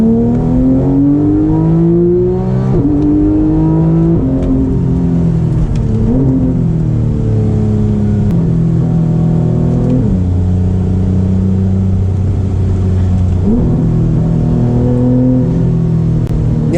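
Porsche 991 GT3 flat-six engine revving hard under acceleration, loud and close from inside the cabin, with rising and falling pitch sweeps through several gear changes over a steady engine roar.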